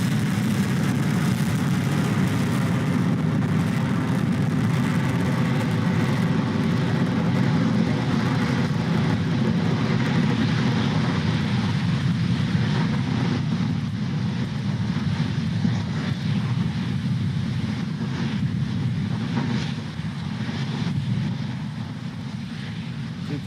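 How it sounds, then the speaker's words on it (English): SpaceX Falcon 9 rocket climbing during the ANASIS-2 launch, its Merlin 1D engines throttling down, a steady loud broadband roar that fades slightly toward the end. "M1D engines are throttling down, getting ready to reduce vehicle acceleration"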